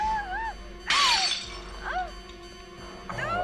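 A glass pane shatters in a tense scene from the 1978 horror film Halloween, a sudden bright crash amid music and faint voices, with whistling and ringing tones around it.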